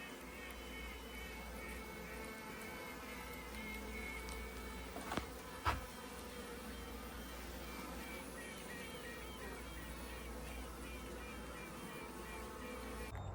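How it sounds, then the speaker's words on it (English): Virgin queen honey bees piping inside a hive, faint buzzing and tonal piping notes over a steady hum of bees, with a couple of brief louder bumps in the middle. "So you hear the queens piping."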